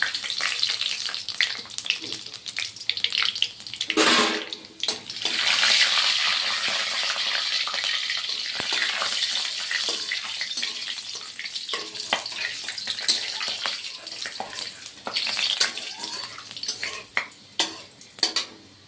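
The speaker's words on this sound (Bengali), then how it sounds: "এখন পাঁচ ফোড়ন দিচ্ছি ফোড়ন" Panch phoron spices hit hot oil in a wok, giving a steady close-up sizzle with scraping, stirring clatter and a few sharp knocks toward the end.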